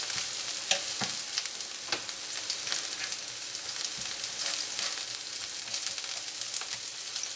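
Chopped onion sizzles steadily in a pan as it browns, a dense continuous frying hiss with occasional stirring clicks, no voices.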